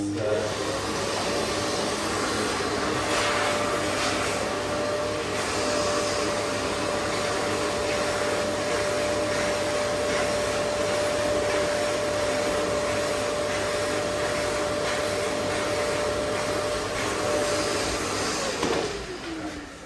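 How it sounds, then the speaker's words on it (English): A vacuum cleaner removing dust from wood grain runs steadily and loudly for a long stretch, with a constant whine and airy roar, then winds down at the end. "now that we've moved the dust from the grain with a vacuum cleaner"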